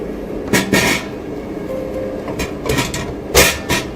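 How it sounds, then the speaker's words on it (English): An oven tray slides back into an ST1520 3D sublimation vacuum machine, producing several short scraping slides and clunks in separate bursts, fairly close and clear against a quiet room. "Put the oven back into the machine and press the timing button."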